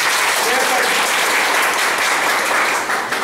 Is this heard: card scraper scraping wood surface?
no